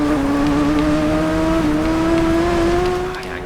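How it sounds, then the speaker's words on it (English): A motorbike engine in the Isle of Man TT 2 racing game drones loudly at high revs, its pitch climbing slightly before the sound dips near the end. "This bike doesn't sound very good"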